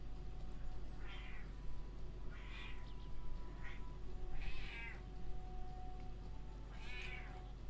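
A cat meows about five times at irregular intervals, each cry short and clear, over a steady low background hum.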